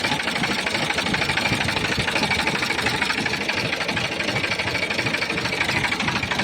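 A New Holland 4710 four-wheel-drive tractor engine runs steadily nearby, a dense, even mechanical clatter and drone that holds at a constant level throughout with no pauses.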